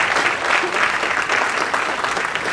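An audience at a community band's July concert claps steadily, a dense, continuous patter of many hands fairly close by and unbroken for the whole stretch.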